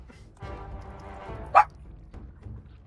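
A pet dog lets out a single short, sharp bark midway through, over low background noise.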